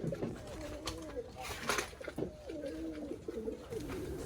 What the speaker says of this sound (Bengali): এই বাসায় আমাদের ময়ূরপঙ্খী কবুতরগুলো থাকে